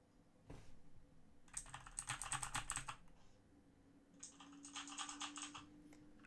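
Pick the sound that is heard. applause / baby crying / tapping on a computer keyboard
tapping on a computer keyboard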